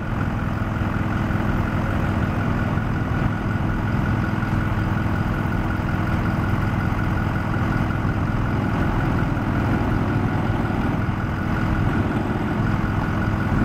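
Kawasaki utility vehicle engine idling, a steady low rumbling drone held close and unchanging from start to finish.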